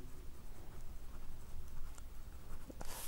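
Pen or chalk scratching across paper or a board, a quiet continuous scratchy writing sound under a soft hiss of room noise.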